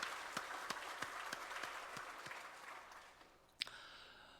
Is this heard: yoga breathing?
no